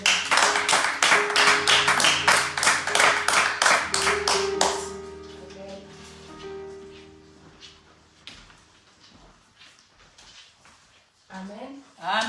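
A church congregation claps in a quick, rhythmic burst to acclaim the Lord, loud and close, then trails off as sustained organ or keyboard tones ring on and a voice speaks briefly at the end.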